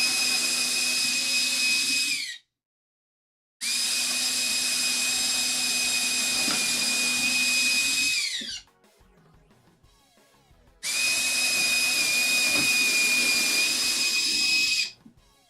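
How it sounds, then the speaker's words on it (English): A power drill pre-drills screw holes into a wooden frame for a miter saw station, with three long, loud, steady whirring runs separated by brief pauses and quiet handling. "And we'll pre-drill some holes."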